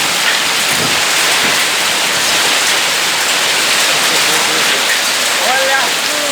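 A dense, loud, steady hiss of heavy rain mixed with hail falls in São Paulo, with a faint voice briefly audible near the end.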